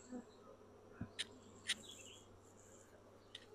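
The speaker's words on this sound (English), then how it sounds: "I'm not gonna disturb these bees much further, Nat." Soft, steady buzzing from honey bees in an open hive hums throughout, with a few brief sharper clicks and rustles on top; no voices.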